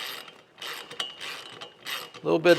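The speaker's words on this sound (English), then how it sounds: "these just have to be snug. You don't have to over tighten and risk damaging the bolts." A ratchet tightens bolts on a Louisville Slugger Black Flame pitching machine during assembly, giving several quick bursts of close clicking separated by short pauses.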